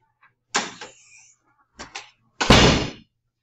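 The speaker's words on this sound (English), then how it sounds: "I'm going to shut the door" An indoor door swung and shut in a quiet room: a creak and knock, two brief bumps, then a firm final thud, near and fairly loud, with no talking.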